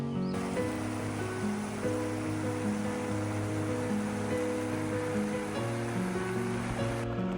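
Steady rushing of a stream at Kamigamo Shrine in Kyoto, the shallow but strong-flowing Nara-no-ogawa, heard as a continuous broadband wash of water throughout, with melodic background music layered over it.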